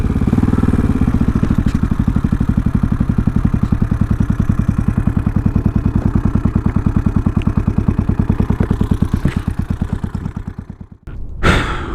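A 1972 Honda CB450K motorcycle engine runs close by with a steady rhythmic parallel-twin thrum while riding, then revs drop as the bike pulls up and slows to a stop, ending with a brief clatter.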